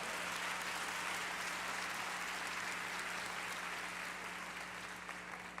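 A congregation applauds the Lord during a Sunday evangelical church service, a dense and steady wash of clapping that fills the whole stretch at even loudness over a faint low hum.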